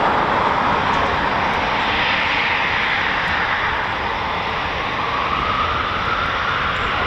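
Eurofighter Typhoon FGR4 fighter jet flying past at an RAF airbase, a loud, continuous broadband engine roar that holds steady and slowly shifts in tone, with no talking.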